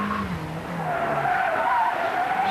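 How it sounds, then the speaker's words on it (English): A car doing a 360-degree spin during a 1988 driving competition, its tires squealing in a continuous, wavering screech under steady engine roar, loud and close for the whole stretch. "Now, oh, and the power comes on quickly, really giving those tires a workout."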